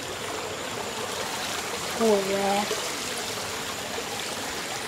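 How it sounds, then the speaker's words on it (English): A waterfall at a backyard pool at night flows with a steady, even rush of water throughout, and a person speaks briefly partway through. "The bridge and waterfall right here."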